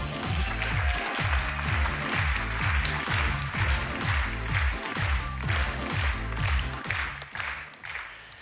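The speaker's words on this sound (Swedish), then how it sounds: "En stor applåd för Peter Ueda!" Audience applause for a researcher at Forskar Grand Prix 2017, a crowd clapping in loud, dense, rhythmic waves that continue steadily before thinning out at the end.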